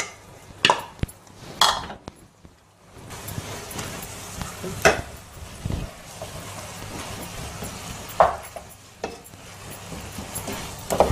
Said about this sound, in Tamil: அந்த சாதத்தை கலந்துக்கலாம்.